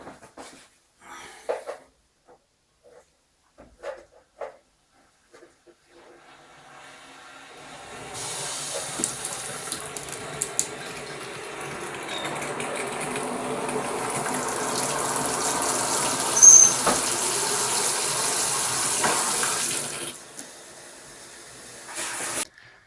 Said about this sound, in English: switch the water on